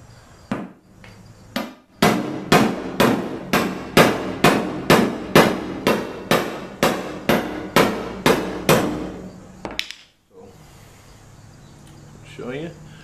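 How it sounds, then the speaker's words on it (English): A 3-pound sledgehammer hammers a knife into a truck tailgate in a steady run of about fifteen sharp metallic strikes, loud and close. A voice is heard faintly afterward. "I got about a 3-pound sledgehammer here."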